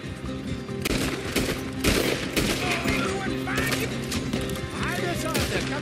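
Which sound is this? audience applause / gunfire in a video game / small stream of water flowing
gunfire in a video game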